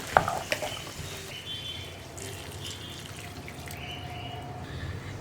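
Scraping and stirring of chickpeas in a pan over a soft sizzle, with a few sharp clinks at the start, close by and with no talk.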